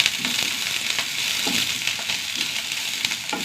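Chopped onions and coconut pieces fry in oil in a pan, producing a steady, dense sizzle that holds at an even level throughout, with faint occasional scrapes from stirring underneath.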